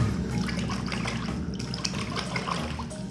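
Water is poured over a small muddy toy police car to wash it, a close, continuous splashing trickle with faint bubbling that stays steady throughout.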